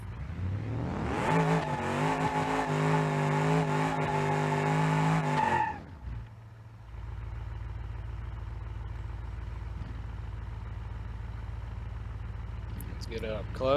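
A cop car in BeamNG.drive does a burnout, engine revving hard with tires squealing loudly for several seconds, then cutting off abruptly to a low steady idle rumble.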